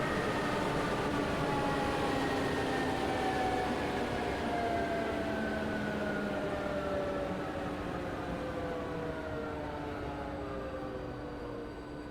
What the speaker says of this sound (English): Ah, there it is, the local train going to Brno.